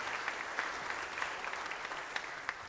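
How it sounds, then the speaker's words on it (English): An audience at a patriotic summer concert series hosted by Riverside Presbyterian Church claps warmly and steadily, many hands blending with a few sharper individual claps standing out near the front. "how about a big round of applause for Riverside Presbyterian Church for putting on this wonderful series"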